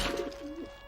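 Pigeons cooing in a short burst of soft, throaty calls, fairly close and alone with no talk, over a steady background hum.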